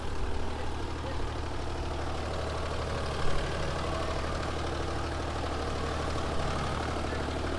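A Mahindra Yuvo Tech Plus 275 tractor engine idles at a steady, low chugging rumble throughout, moderately loud and close, with no voices.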